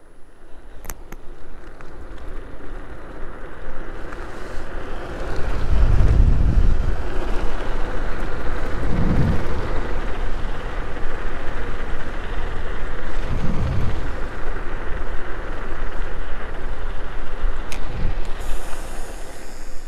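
Zero 10X Limited 6700 W electric scooter ridden at speed, heard as steady rushing wind roar across the microphone with low buffeting thumps, loud and continuous throughout with no talking.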